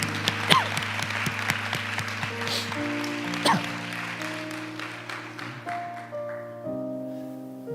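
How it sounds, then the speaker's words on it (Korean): A church congregation at a Korean Sunday worship service applauds together in sustained clapping, steady and full, while an organ or keyboard holds chords underneath. "감사의 박수 올리십시다."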